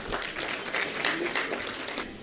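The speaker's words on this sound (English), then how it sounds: "please stand and welcome Sir with a big round of applause" Audience applause at a National Startup Day gathering as a guest is welcomed, a moderately distant wash of many clapping hands with some individual claps standing out, steady throughout.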